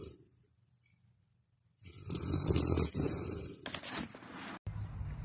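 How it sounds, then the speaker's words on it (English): A large Newfoundland dog snores nearby, first a faint breath, then a long, loud, rasping snore followed by rougher snorting breaths, with no talking. "Newfies snore like a train."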